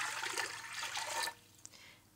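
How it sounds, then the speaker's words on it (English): Water poured into a pressure cooker, a steady close splashing stream for about a second and a quarter, then stopping abruptly, leaving a single faint drip in near silence. "So in my pressure cooker, we're going to add about 1 litre of water."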